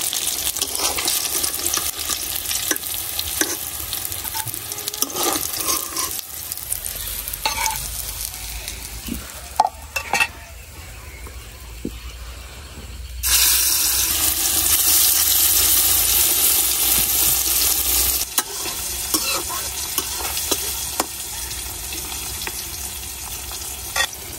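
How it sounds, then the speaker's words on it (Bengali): Fish frying crisply in a pan, a loud continuous sizzle with occasional stirring scrapes and clinks, the frying swelling louder midway through. "মাছগুলো আমি যেরকম কড়া করে ভাজে নিচ্ছি"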